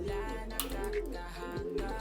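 Fancy pigeons coo softly in a pen, low repeated murmuring calls over a steady background hum, fairly faint and close, with no talking.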